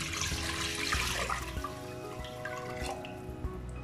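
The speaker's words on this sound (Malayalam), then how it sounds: "ഇനി ഇതിലേക്ക് നമുക്ക് ചോറിന് ആവശ്യമുള്ള വെള്ളം ഒഴിച്ചു കൊടുക്കാം." Water poured into a pot for cooking rice for fried chicken biryani, a continuous splashing pour with drips and clinks, close and fairly loud.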